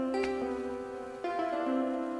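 Electric and acoustic guitars layered together in a beat, picked notes with bright attacks and a second phrase entering partway, playing alone without any voices.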